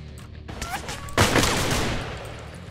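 Burst of gunfire in the psychological thriller game The Apartment, a loud volley of rapid shots erupting midway with trailing echo, after some earlier clatter and a brief tone.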